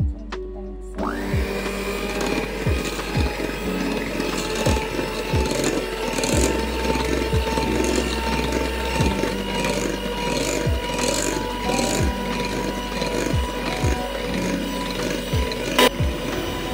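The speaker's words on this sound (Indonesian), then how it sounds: "Ini kita mixer dulu dengan kecepatan rendah bertahap sampai ke kecepatan paling tinggi ya" An electric mixer beats cake batter for kue mekar, starting after a second of quiet and running as a steady close whir with rhythmic knocking of the beaters against the bowl.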